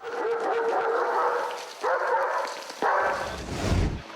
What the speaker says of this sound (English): Police dog Blade tracks down a drunk driver who's run from the scene of a car crash